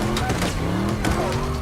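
A car drifts in circles during a John Wick 4 film scene, its engine giving a loud, sustained whine with shifting pitch and rising and falling revs throughout.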